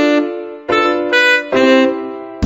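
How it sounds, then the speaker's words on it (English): A saxophone from a Mickey Mouse Clubhouse musical maze game plays a short phrase of sustained, reedy notes in a few bursts separated by brief gaps, loud and close, with no voices. "A saxophone sounds like this"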